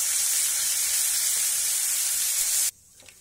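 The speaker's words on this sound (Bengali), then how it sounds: "চামচ রসুন বাটা, দিয়ে রসুনটাকে একটু ফ্রাই করে নেব।" Garlic paste sizzling in hot oil with curry leaves for sambar dal, a steady loud frying hiss that carries on evenly, then cuts off abruptly near the end, leaving near silence.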